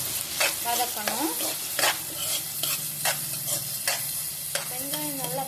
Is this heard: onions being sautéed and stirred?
yes